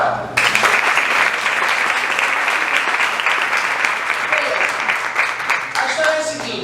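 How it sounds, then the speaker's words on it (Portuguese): A room of attendees at a public speaking workshop bursts into applause, starting abruptly and holding steady with dense clapping, while a voice speaks over it near the end. "Salva de palmas pra ela."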